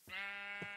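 A single sheep bleats in the Sky Den 2.5 modpack video game, one short, clear, wavering bleat heard alone without talk.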